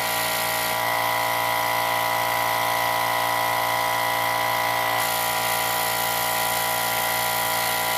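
A SMTMAX 702 hot air SMT rework station blows air through its nozzle in a steady, loud, continuous rushing hiss with a constant tonal whine, holding even for the whole stretch with a slight shift midway.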